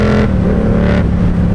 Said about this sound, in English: It's not the worst sounding exhaust I've ever heard on an R7